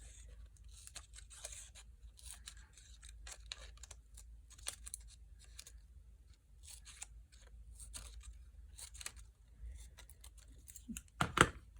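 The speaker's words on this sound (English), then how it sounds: "Put the little snips, put one little short snip inside each of your triangles on the flat side" Scissors make a series of faint, quick snips as short cuts go into small paper triangles along the flat side, with irregular crisp clicks in a quiet room and a slightly louder snip at the end.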